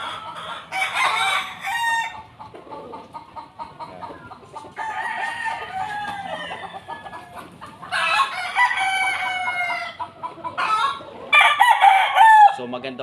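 A Sweater Tornado gamefowl rooster crows and clucks in several loud, close bursts separated by short pauses, with the calls rising and falling in pitch.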